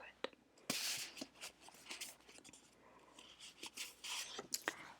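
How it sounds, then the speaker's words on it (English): Paper oracle cards are shuffled and handled up close in a quiet room, giving soft rustles, scrapes and light flicks at an irregular pace, with hushed whispering running underneath. "If you like paper sounds, these are great cards for that."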